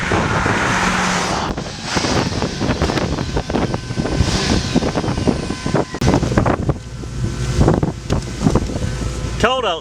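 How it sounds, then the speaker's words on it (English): Strong wind buffets the microphone at a roadside, loud and gusty, with traffic rumble and a voice speaking near the end. "It's rather windy today"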